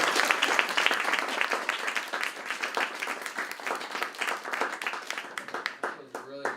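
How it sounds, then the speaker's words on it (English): Audience applause at a short film challenge screening, sustained lively clapping from a room of people that stays loud and fairly even throughout, with a voice briefly heard near the end. "One more round of applause."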